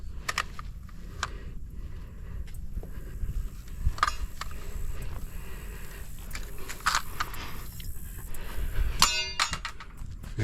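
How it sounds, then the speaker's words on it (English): Pneumatic nail gun firing siding nails into the wall of a 12x16 shed during siding installation, several sharp metallic clangs and clicks scattered across a low, steady background hum. "let me shoot one more nail"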